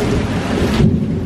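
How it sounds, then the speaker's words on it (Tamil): Heavy rain pours steadily in the Genting Highlands, Malaysia, with a deep rumble of thunder rolling underneath the dense, close hiss of the downpour. "சாப்பிட்டு வரத்துக்குள்ளே மழை நல்லா பிடிச்சிருச்சு"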